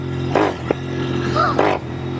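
A Royal Enfield INT/GT-based hybrid motorcycle built in the style of a Clymer idles with a steady low throb, then gets two or three quick throttle blips, heard up close with a voice talking over it.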